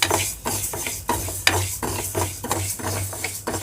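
Moong dal being dry-roasted in a pan is stirred in a steady rhythm, each close, loud scraping stroke coming about every half second over a low steady hum, with no voices.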